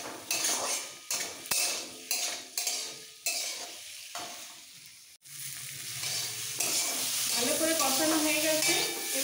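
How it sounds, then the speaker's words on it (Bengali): Okra and fried potato being stir-fried with spices in a pan, with a spatula scraping and knocking against the metal in rhythmic strokes, followed by a steady sizzle as the vegetables cook together. "এবার একসাথে কষাবো।"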